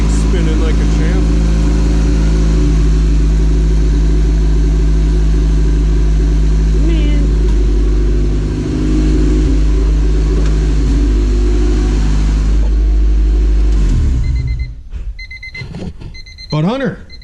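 A turbocharged Honda Civic with a B20V engine idles loudly with the VS Racing turbo spinning, a steady droning hum with a high whine on top, dropping away abruptly near the end into clicks and quieter noise.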